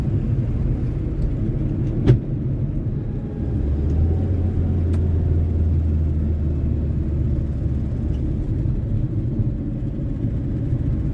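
A 1978 Honda Civic cruising along, its engine giving a steady low rumble with road noise, a sharp click partway through and a humming drone rising a few seconds in, with no voices.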